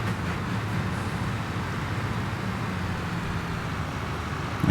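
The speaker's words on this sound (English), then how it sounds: "The engine noise isn't all that good, is it?" A truck engine in the Construction Simulator video game drones at a steady low pitch with a broadband hum, holding an even level for several seconds with no talking.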